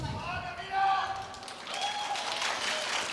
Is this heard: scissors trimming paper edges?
no